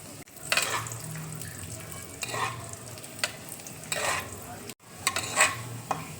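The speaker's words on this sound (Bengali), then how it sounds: "এবার আমি কিশমিশ দেখো দিয়ে দিচ্ছি।" Raisins fry in melted ghee after cashews in a pan for bottle gourd kheer. A soft, steady sizzle runs throughout, broken by several bursts of stirring and scraping.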